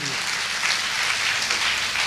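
A seminar audience applauds, a dense, even wash of clapping that holds steady for a couple of seconds.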